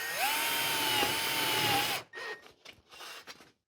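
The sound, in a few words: reversible magnetic nut driver driving screws into sheet metal duct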